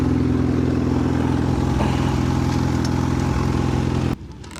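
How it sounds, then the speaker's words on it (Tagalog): A motorcycle engine runs steadily with a dense, rumbling tone, loud and close, then cuts off sharply near the end. "pipihitin ko yung motor."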